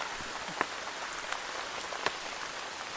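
Heavy rain pours down in a jungle, a dense, even hiss of drops hitting leaves and ground close by, with a few louder individual splats and no voices.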